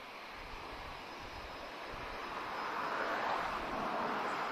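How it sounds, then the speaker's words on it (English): Boeing 767 jet airliner starting engines and taxiing at Lisbon Airport, a steady broadband jet roar at moderate distance that swells gradually louder, with no talk. "I think he's taxiing as well. So we're going to get a 767 now."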